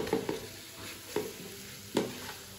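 Ginger garlic paste stirred into a sizzling curry, with three or four scraping strokes of a spoon against the pan over a constant frying hiss, close by.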